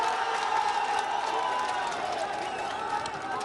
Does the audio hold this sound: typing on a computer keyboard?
no